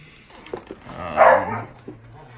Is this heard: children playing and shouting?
no